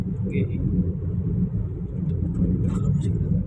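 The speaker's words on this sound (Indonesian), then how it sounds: "Jalan ini mobil gede ya lur." Heavy trucks and large vehicles on a road in Lampung pass close by in a continuous, loud low rumble that swells slightly toward the end.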